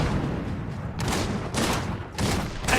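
An anti-mech cannon in the Iron Harvest game fires in several heavy, roaring bursts spaced about half a second apart, each one a broad blast with a rumbling tail.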